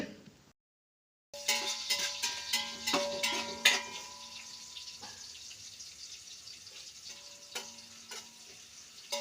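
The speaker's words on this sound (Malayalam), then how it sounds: "എന്നിട്ട് നല്ലോണം ഒന്ന് വഴറ്റി കൊടുക്കുന്നുണ്ട്" Sliced onion, carrot and small lemon pieces sautéing in a pan for chicken biryani, with a steady sizzle and the sharp clinks and scrapes of a spoon stirring, starting after a brief silence.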